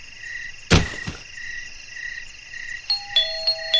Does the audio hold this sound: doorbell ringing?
yes